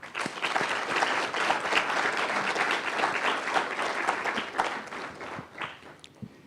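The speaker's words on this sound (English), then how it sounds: "So I think they deserve a round of applause." A seminar audience at a men's keynote event bursts into sustained applause, a thick, fairly loud stream of claps that holds steady and then tapers off into a few last scattered claps.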